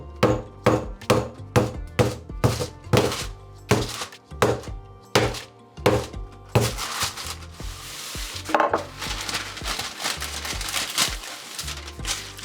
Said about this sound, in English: One rolling pin.